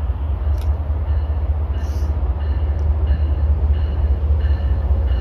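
Amtrak or MBTA train pulling into the Route 128 station, a steady heavy low rumble of wheels and rail throughout with faint metallic squeals and clanks above it, no talk.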